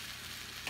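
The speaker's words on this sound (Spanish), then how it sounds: "Se fría bien esto." An egg tortilla frying in a pan gives a short, steady sizzle, even and close with no break.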